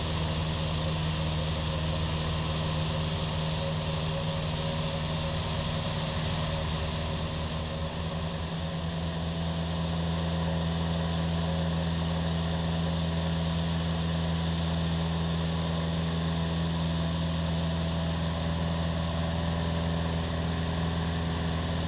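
Inside the cabin of a small airplane climbing to altitude, the engine and propeller make a constant, loud droning hum with a steady pitch. It stays unbroken throughout, with no talk.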